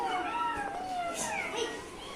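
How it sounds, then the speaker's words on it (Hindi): A cat meows in a roleplay scene, with drawn-out, wavering cries, probably voiced by a person, amid a busy mix of other vocal sounds at moderate level. "अचानक बिल्ली की म्याऊ सुनाई पड़ती है।"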